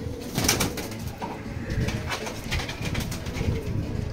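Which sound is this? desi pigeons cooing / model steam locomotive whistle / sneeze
desi pigeons cooing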